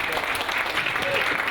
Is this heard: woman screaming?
no